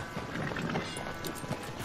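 Horse hooves clip-clopping in the game Red Dead Redemption 2, a soft, muffled patter of steps at a slow walk under steady ambient noise, quiet and fairly close.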